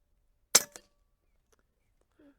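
A single Huben K1 airgun fires at a target at an expo shooting range, a sharp close crack followed by a brief second snap, then near silence with a faint murmur.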